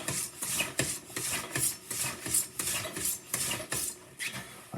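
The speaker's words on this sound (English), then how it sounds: "So I'm going to go ahead and give her a strap." A straight razor drawn back and forth across a leather strop before a shave, giving a steady rhythmic rasping swish, roughly two strokes per second, close and moderately loud with no talking.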